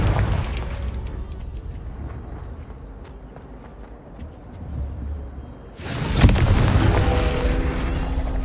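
The Confringo fire spell goes off in Hogwarts Legacy with a sudden loud, broadband explosive burst about two-thirds of the way through, followed by a sustained rumbling roar after a quieter stretch of low background noise.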